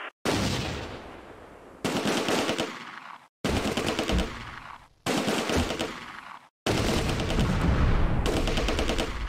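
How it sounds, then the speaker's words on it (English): Sustained machine gun fire in the Close Combat: A Bridge Too Far battle game, four loud rattling bursts of about one to three seconds each, separated by brief silences, ending in a longer continuous volley. "Unter schwerem Beschuss."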